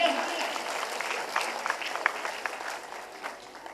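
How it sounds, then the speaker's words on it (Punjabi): Audience clapping at a school annual function, a steady dense patter of many hands filling the hall without a break, with a few sharper claps standing out and the sound tapering slightly toward the end. "ਮੇਰੇ ਲਈ ਜ਼ੋਰਦਾਰ ਤਾਲੀਆਂ।"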